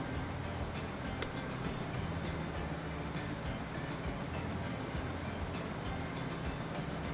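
A diesel locomotive hauling a long freight train in the Transport Fever game rumbles steadily at a low pitch, with a continuous engine drone and faint rail clatter running evenly throughout.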